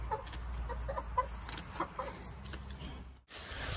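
Chickens cluck on a farm in rural America on a drizzly day, with short clucks and calls scattered over a low steady background before a brief drop to near silence at the end.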